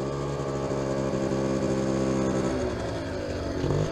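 A 50cc 2004 Derbi dirt bike engine running steadily at close range, a buzzing light-engine drone that rises slightly in pitch near the end, with no talking.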